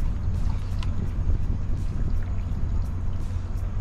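Motorboat running steadily on saltwater while someone fishes from it, a continuous low engine drone mixed with wind buffeting the microphone and water rush, with no talking.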